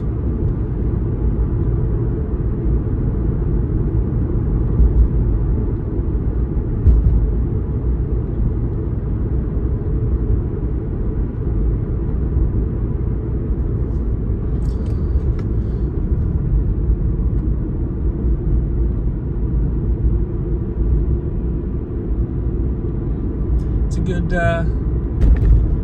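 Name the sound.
Toyota Supra car engine while driving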